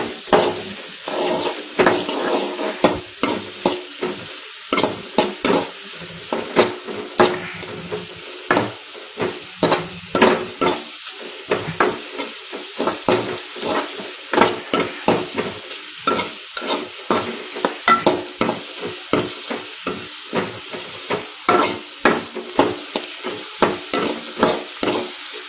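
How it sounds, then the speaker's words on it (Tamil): Onions for bread chilli fry in a pan while a spoon scrapes and stirs them in a steady run of sharp strokes over a continuous sizzle, close and moderately loud, with no talking. "வெங்காயம் வந்து அப்படியே வதங்கிடுச்சு."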